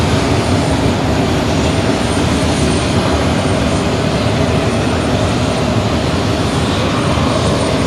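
An airplane taxis with a loud, steady engine roar and broadband rumble that fills the whole stretch without letup, close and unchanging, with no voices on top.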